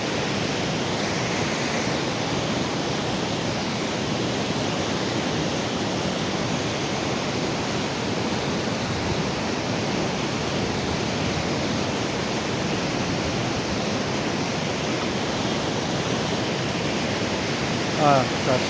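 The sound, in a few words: waterfall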